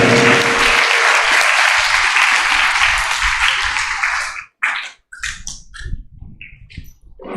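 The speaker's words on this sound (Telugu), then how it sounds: "గట్టిగా చప్పట్లు కొట్టి దేవుని మహిపరచం గట్టిగా చప్పట్లు కొట్టాలి" A church congregation at a healing prayer service and Mass bursts into loud, dense clapping that fills the space, then thins into scattered claps and stray noises as it dies away.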